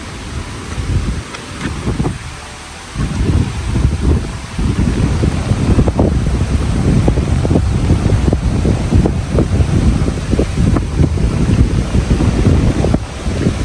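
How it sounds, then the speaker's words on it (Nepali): Strong gusts buffet the microphone on the Chidiya Tapu coast near Port Blair in the Andaman Islands as rain begins. The roar is loud and close, dips briefly, then surges to a constant blast with surf beneath. "यस्तो हावा चलेको छ, पानी पर्न लागेको छ भनेदेखि मान्छे उडाउने हावा छ"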